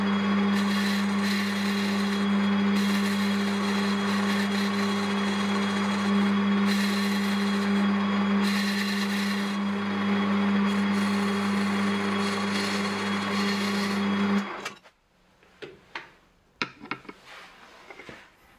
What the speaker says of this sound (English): I'm about to start machining that lip.